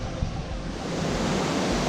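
A steady, broad wash of surf roars continuously, waves breaking and rushing close by on Beau Vallon Beach, Mahé, Seychelles, with some wind buffeting and no voices.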